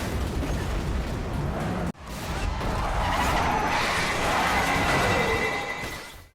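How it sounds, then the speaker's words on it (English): Movie car crash as one car slams into another: a loud, dense roar of skidding tires and grinding impact, cut off briefly and then surging back and sustained, with no voices. "But suddenly, Merrick's car appears and slams into hers."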